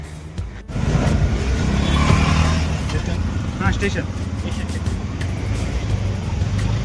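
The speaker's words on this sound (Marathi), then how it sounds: "आता आपल्याला रिक्षा भेटली आपण चाललो स्टेशनला नेरूळ स्टेशनला" Auto-rickshaw ride through road traffic toward Nerul station, with a steady close engine drone and surrounding traffic rumble throughout and a brief spoken phrase near the start.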